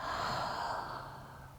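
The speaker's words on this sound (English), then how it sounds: "Exhale as you drop it to your forehead. Full exhale here." One soft, full exhale of breath during a gentle yoga flow, close and quiet, fading steadily over a second and a half.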